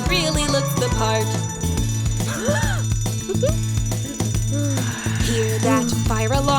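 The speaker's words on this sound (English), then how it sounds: "Hear that fire alarm?" A cartoon fire alarm rings in a repeated pulsing electronic tone, sounding in regular bursts over bright music with sliding tones.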